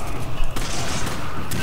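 Shotgun blasts in the video game Resident Evil 5, loud close booming shots in quick succession with a sharp crack near the end, over game noise.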